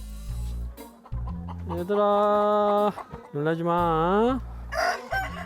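Chickens in a coop, including a hen sitting on eggs, give loud drawn-out calls and clucks close by, with several harsh squawks, while a person speaks briefly between them.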